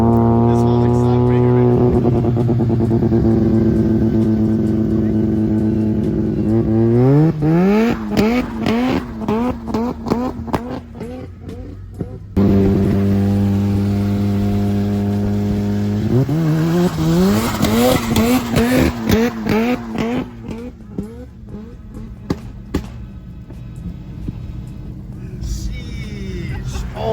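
Rotary-swapped Subaru BRZ revs hard while spinning its tires in a snowstorm, the engine climbing in repeated screaming sweeps and dropping back, loud and close, with tire squeal and people talking over it.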